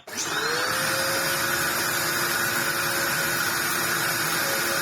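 Ewbank Motion EW3001 vacuum cleaner with a clogged hose switched on and running, a steady loud motor whine with a thin high tone that starts abruptly and holds evenly throughout.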